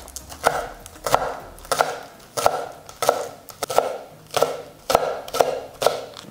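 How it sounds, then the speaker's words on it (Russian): Green onions chopped with a knife on a cutting board, a steady run of about ten evenly spaced thuds and crisp slices, close and distinct with no voices. "нарежем зеленого лучка."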